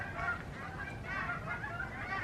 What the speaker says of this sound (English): Got some geese going on overhead